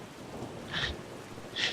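Steady rain hiss in the video game A Valley Without Wind 2, with two brief brighter bursts like distant thunder or crackles, faint and low in level.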